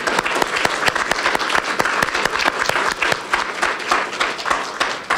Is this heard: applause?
yes